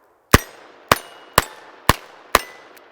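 Five sharp metallic clicks at an even, unhurried pace from a Smith & Wesson 648 .22 WMR revolver working its hammer in double action, each one crisp and close.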